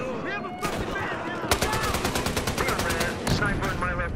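Automatic gunfire in the shooter game Battlefield Hardline, with rapid bursts of sharp shots in quick rhythmic volleys, some distant pops, and a voice talking underneath.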